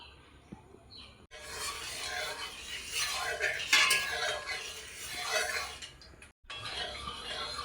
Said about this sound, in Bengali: এবার আমি তেল দিয়ে দেবো